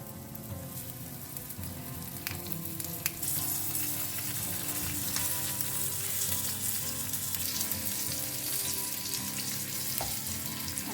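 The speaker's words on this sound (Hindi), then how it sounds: "अब ना बढ़िया सा गोल्डन कलर आने तक दोनों साइड से अच्छे से फ्राई करते हैं।" Rava-coated stuffed mackerel shallow frying in oil, a steady, close hiss and crackle of sizzling that runs unbroken throughout, with faint occasional ticks and no voices.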